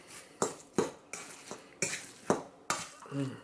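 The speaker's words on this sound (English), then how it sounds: "Okay, now it's time to add the chopped onions. I'll mix these in." Chopped onions being mixed into a venison meatball mixture in a bowl, giving a series of about seven wet, squelching pushes at a steady pace, close and fairly loud, with no talking.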